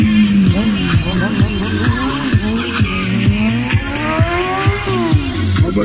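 A loud, continuous tire squeal from a motorcycle burnout during a stunt show, with the engine pulsing and revving underneath throughout.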